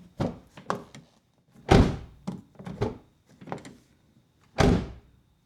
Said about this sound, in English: let me open and close it for you